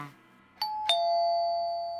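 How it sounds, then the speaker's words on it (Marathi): An electronic doorbell chimes twice, a bright ding-dong whose second tone rings on and slowly fades in a quiet room. "आता बेल कोण वाजवतंय काय माहिती."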